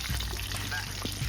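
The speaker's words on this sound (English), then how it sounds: "Some fucking, I guess, oil fried mahi-mahi. A little pan mahi." Mahi-mahi pan-fries in oil, a close hissing sizzle and crackle that stays fairly steady for a moment, with a faint murmur of voices under it.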